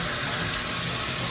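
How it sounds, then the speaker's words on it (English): Tap water runs steadily into a sink while hands are rinsed in a home kitchen during cooking, a close, continuous hiss. "Make sure you always wash your hands. In this case, I'm just rinsing them"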